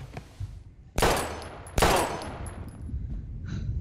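Gunfire in the video game Life Is Strange: two loud, sharp shots about a second apart, each followed by a ringing echo tail, over low background ambience.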